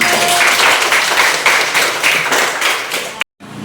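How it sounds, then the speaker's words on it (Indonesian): Students in a junior high school classroom clapping together, a loud, dense burst of applause that cuts off abruptly near the end. "tepuk tangan dulu"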